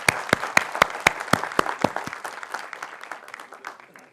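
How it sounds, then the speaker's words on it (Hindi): Audience applause at an Atomy India felicitation event, a burst of clapping with sharp individual claps up front that thins into a looser, fading patter over about four seconds. "आपका ताली रुकना नहीं चाहिए"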